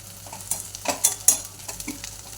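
Onion and curry leaves sizzle in hot oil with mustard seeds and cumin while a spoon stirs them, a steady close frying hiss broken by short scraping strokes of the spoon.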